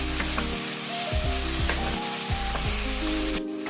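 Ginger garlic paste frying with softened onions in a pan, stirred with a spoon, with a steady sizzle and repeated scraping strokes, close and continuous, while a low tonal hum runs underneath and no one speaks.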